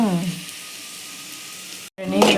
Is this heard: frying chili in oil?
yes